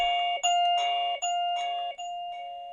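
Chime tones from a HeimVision Greets C1 smart video doorbell, a bright electronic melody of several bell-like notes ringing in a steady sequence, clear and close in a quiet room.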